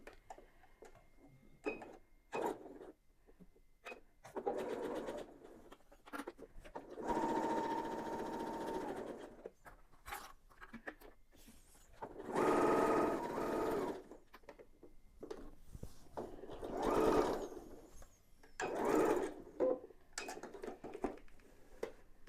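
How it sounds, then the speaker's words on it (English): Sewing machine stitching a seam around the edges of a large quilted Christmas bow, running in several bursts of steady whirring separated by short pauses, close and moderately loud with no talking. "I'm going to go all the way around the edges, and I'm going to finish with a back stitch here"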